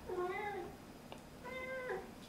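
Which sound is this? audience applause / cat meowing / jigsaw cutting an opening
cat meowing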